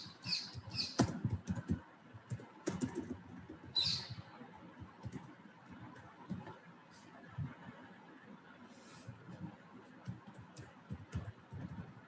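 Bursts of keyboard typing while code is written, with clustered clicks early on and sparser taps later, close and moderately loud, with some faint voice sounds in the background.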